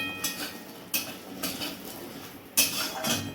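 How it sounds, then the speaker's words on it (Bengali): Bori lentil dumplings fry in a pan for a Bengali shukto recipe, with soft sizzling under a series of sharp utensil clinks and scrapes against the pan, several distinct knocks spaced a second or so apart. "প্রথমে বড়িগুলো ভেজে নেওয়া হবে বড়িগুলো বেশ লাল লাল করে ভেজে নেওয়া হবে"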